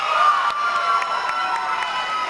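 A large crowd at a 1988 George Bush campaign rally cheers and applauds in a dense, continuous roar, with scattered shouts rising over the sustained noise and no speech on top.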